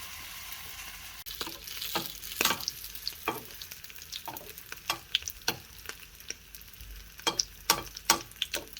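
Brick pastry folded into a square around an egg yolk fries in a pan, giving a continuous low sizzle broken by many sharp crackles and pops spread through the whole stretch, fairly close, with no talking.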